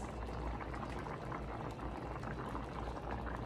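White rice and vegetables boiling in a pot on the stove, a steady, continuous bubbling simmer that holds at an even level throughout with no talk.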